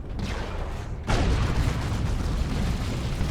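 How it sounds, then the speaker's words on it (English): Tank cannon fire in Dawn of War 2 during a Space Marines versus Tyranids battle, a heavy boom hitting about a second in and leaving a dense, rumbling roar of battle noise behind it. "Might go down to the tank shots."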